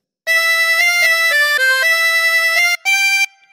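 A harmonica plays a short melodic phrase of God Save the Queen, a run of sustained reedy notes with one brief breath gap near the end, close and loud with no voices.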